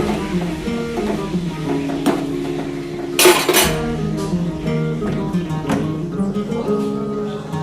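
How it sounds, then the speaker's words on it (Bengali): Metal spatula scraping and clinking against a pan while vegetables are stirred in a little oil, with irregular knocks and one sharp louder clank, close and clear. "সামান্য তেল, এক ফোঁটা। আর একটু নাড়াচাড়া হচ্ছে।"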